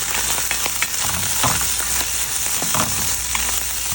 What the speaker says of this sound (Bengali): এখানে রসুনটা ভেজে নিচ্ছি, পেঁয়াজটা ভেজে এই মাছটা আমি ভেজে নিব।